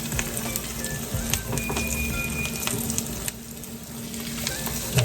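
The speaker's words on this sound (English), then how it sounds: "We are pan frying them." Coated chicken pieces sizzle and crackle steadily as they pan-fry in hot oil, a constant close hiss dotted with small pops and an occasional scrape of stirring.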